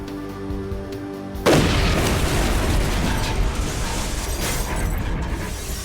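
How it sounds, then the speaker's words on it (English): A bomb detonates against the wall of the World Trade Center tower: after a faint tonal hum, a sudden loud blast erupts into a sustained, roaring rumble and debris noise lasting several seconds. "The explosion hit the wall of the tower with a massive force"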